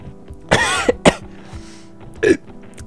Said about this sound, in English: There's my first burp.